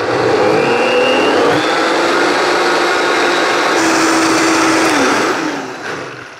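A large blender machine runs loud and steady as it blends thick food, its motor whirring continuously at close range and shifting pitch slightly before winding down at the end.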